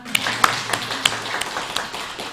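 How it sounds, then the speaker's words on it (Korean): Brief, scattered clapping from a small church congregation at a revival meeting, a handful of distinct, uneven hand claps over a low room hum, lasting just a couple of seconds. "박수 한번 치겠습니다"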